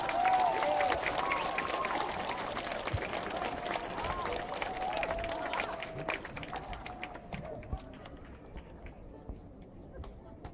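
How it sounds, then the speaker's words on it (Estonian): Outdoor concert crowd at Tallinn Old Town Days applauding a band on an old town square, a dense wash of clapping and cheering with voices mixed in, loud at first and gradually thinning out. "palun plaksutage palju ja meelitage välja lisalugusid"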